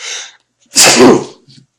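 A single loud, close sneeze with a sharp inhale before it and a small sniff after.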